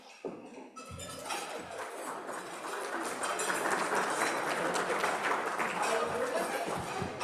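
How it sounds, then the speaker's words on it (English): Audience applause at a Rotary club program, greeting a past president as he comes up to introduce the keynote speaker. Dense, steady clapping fills the room and builds slightly louder over several seconds, with no talk over it. "I love getting applause before I say anything"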